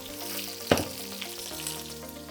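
Large chunks of butternut squash and vegetables land in a hot pot and sizzle, with one sharp burst of frying as they hit the fat, then a steady, close crackle continuing alone.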